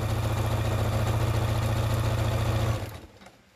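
A sewing machine fitted with a walking foot stitches through multiple layers of fabric for a woven basket, a steady loud motor hum with rapid needle rhythm that runs continuously, then stops abruptly near the end.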